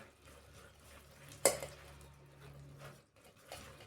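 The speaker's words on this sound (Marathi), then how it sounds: "आपल्याला हे सगळं असं गाळून घ्यायचंय, म्हणजे बिया वरच्यावर राहतील" Custard apple pulp pushed through a steel sieve to hold back the seeds, giving soft, quiet scraping and squishing with one brief, sharper metallic scrape partway through, and no voices.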